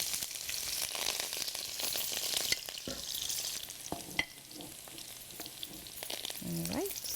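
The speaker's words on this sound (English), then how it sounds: "So I'm going to cook the onions first." Onions frying in hot oil in a home kitchen pan, a steady close sizzle with occasional stirring clicks and taps, running throughout without talk.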